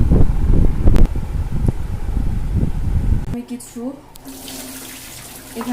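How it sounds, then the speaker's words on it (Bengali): Boiled chickpeas washed under running water in a kitchen sink, with splashing and rushing water under a woman's speech, then the tap flow turns thinner and steadier near the end. "বুটগুলো ওগুলো এখন ধুয়ে নিব"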